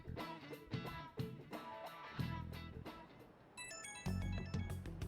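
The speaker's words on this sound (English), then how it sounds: "Oh, the phone." A phone ringing in the game Persona 5 Royal, a short bright electronic ring pattern rising out of the background music.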